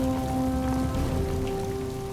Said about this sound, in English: rain shrouds the mountain.